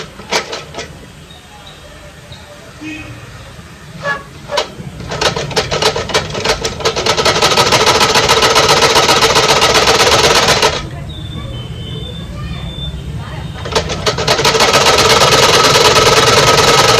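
A loud domestic sewing machine runs in long rapid-stitching bursts across saree fabric, rattling and whirring with a brief pause and restart, close to the listener.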